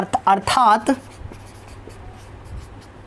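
Chalk or marker tapping and scraping faintly on a board in a physics classroom, soft intermittent strokes following a short burst of a teacher speaking.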